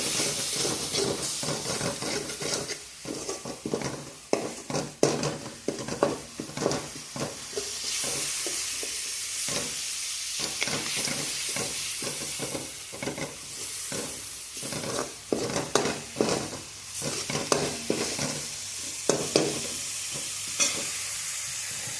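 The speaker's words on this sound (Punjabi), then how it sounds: "ਸਾਰੇ ਪਾ ਇਹ ਮਸਾਲੇ ਦੇ ਵਿੱਚ ਹੀ ਸਮਾਰ ਕੇ ਭੁੱਜ ਜਾਣਗੇ" Spices and onions fry in masala for a savoury bean-nugget dish, giving a continuous loud sizzle and hiss. A spoon scrapes and stirs the pan in repeated irregular strokes, close by.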